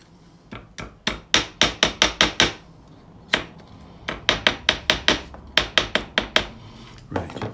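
A cut piece of a coiled clay bonsai pot is tapped with a tool in rapid, evenly spaced knocks, grouped in several loud, close bursts separated by brief pauses.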